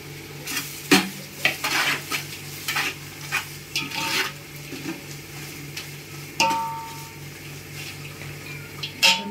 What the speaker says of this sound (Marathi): आता टाकूया ह्याच्यामध्ये आपला हा वटाणा